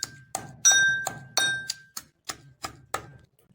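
Green chillies are pounded in a stone mortar for a pomegranate seed chutney, giving a series of sharp, ringing knocks at a steady rhythm, about eight strikes, close and clear with no talking.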